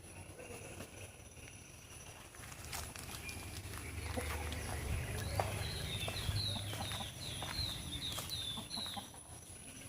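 A rooster crows once in the middle distance amid outdoor background noise, with scattered clucks and some faint knocking sounds.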